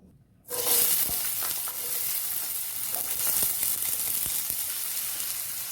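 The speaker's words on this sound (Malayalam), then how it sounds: "ഒരു സവാള ചെറുതായിട്ട് ചതുരത്തിൽ കട്ട് ചെയ്തെടുത്തതാണ്. ഇത് നമുക്ക് ഇട്ട് കൊടുക്കാം." Diced onion dropped into hot coconut oil bursts into a loud, steady sizzle that starts abruptly and keeps frying close by, with a few light stirring scrapes.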